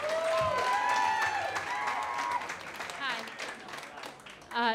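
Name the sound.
audience applause for storyteller Jennifer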